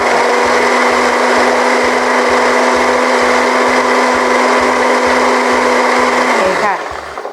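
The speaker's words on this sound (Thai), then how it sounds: "เราก็ทำการใส่น้ำซุปค่ะ ช่วยลงไปในการปั่นเล็กน้อยนะคะ แล้วก็ทำการปั่นต่อ" A blender runs steadily at high speed on a thick suki dipping sauce, a loud continuous whir with a faint rhythmic thumping underneath, then winds down and cuts off near the end.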